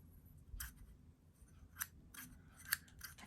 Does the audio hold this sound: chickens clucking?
no